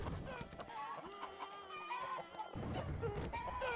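A chicken clucks and squawks in the Totally Accurate Battle Simulator video game, a quick flurry of clucking sounds at moderate volume over the game's busy background noise.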